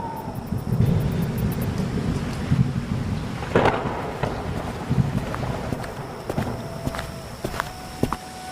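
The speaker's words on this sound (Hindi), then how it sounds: "अब ये बारिश और बढ़ गई।" Heavy, steady rain pours down on a cold day. The broad wash of downpour is joined by a sharp crack partway through and scattered thuds, as if someone is moving through the wet.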